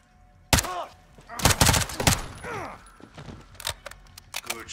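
Bursts of gunfire in the Call of Duty Modern Warfare 2 campaign, with several sharp shots clustered near the start and scattered reports later, mixed with game sound effects.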